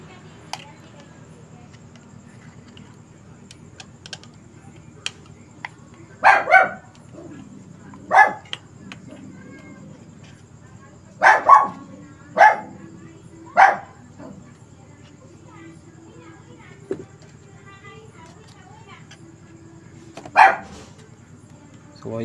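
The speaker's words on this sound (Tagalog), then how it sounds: "Pasensyahan nyo na yung mga maiingay na aso." Several dogs bark in scattered sharp bursts, some single and some in quick doubles, at moderate distance over a low background hum, with long quiet gaps between the barks.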